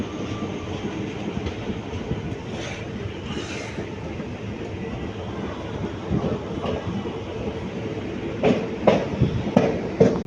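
Mayiladuthurai–Coimbatore superfast express train running on rails, a steady broadband rumble of wheels and carriages with a few sharper clacks and louder bursts near the end, close and continuous with no talk.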